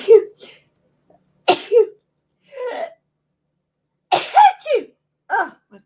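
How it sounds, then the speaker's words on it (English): A person gives a couple of close, sharp sneezes with gasping breaths and small moans between them, in a quiet indoor room, alone without other sound. "now I have to sneeze"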